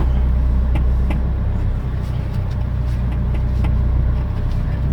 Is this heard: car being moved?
yes